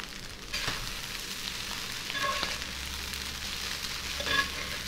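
Ingredients for Korean fried rice fry in a pan with a steady bright sizzle, swelling briefly as food is stirred or flipped, with faint clinks of a utensil and no talking.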